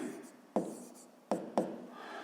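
Pen writing on paper during a fifth-grade maths exercise: soft scratchy strokes broken by three sharp taps or clicks, close and fairly quiet.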